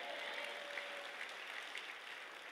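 A church congregation gives a sustained, even round of applause, soft and somewhat distant, with no voice over it.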